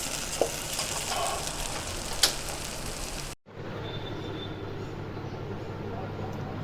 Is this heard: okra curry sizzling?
yes